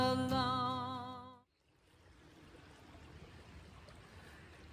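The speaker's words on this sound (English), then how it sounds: "a very tranquil, relaxing creek over near that park I like to go to where the lake is" A creek near a park by a lake flows steadily, a soft continuous wash of running water heard after a loud musical passage cuts off.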